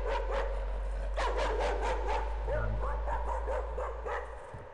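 Dog barking in the horror video game Layers of Fear, several sharp bow-wow barks and yips in quick bursts over a steady low hum, with a person talking over it.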